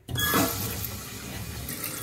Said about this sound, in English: Now I'm just going to turn the water on and fill up the back of the tank.